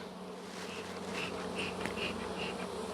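Honey bees swarming around an opened hive in March, a dense, steady buzzing drone with individual bees whining past up close, no voices.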